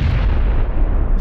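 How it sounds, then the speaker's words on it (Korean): A grenade explodes in the PUBG battle royale game, giving a loud, dense low-frequency boom that fills the whole moment and rumbles on throughout with no voices over it. "수류탄."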